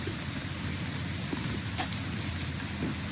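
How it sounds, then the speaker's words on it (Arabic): Steady, dense rain hiss fills a horror-version Subway-style game scene, constant and fairly loud, with a faint brief thump partway through and no talking. "الدنيا بتمطر I love the rain."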